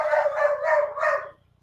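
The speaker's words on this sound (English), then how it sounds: "This dog's gonna be loud and annoying." A dog barks three or four times in quick succession, loud and close, each bark sharp and slightly drawn out before the sound cuts off into quiet.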